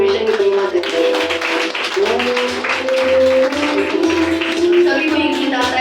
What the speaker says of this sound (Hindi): तो आइए ताली बजाकर परमेश्वर की महिमा करते हैं।